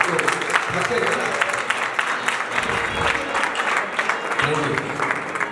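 Wedding guests applaud together in a sustained burst of clapping, fairly loud and close, with voices mixed in under it.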